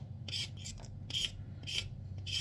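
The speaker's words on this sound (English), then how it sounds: "you get your vegetable and then you just scrape" A handheld peeler scrapes the skin off a vegetable in quick repeated strokes, each a bright, raspy swipe about every half second, close and fairly quiet over a low background hum.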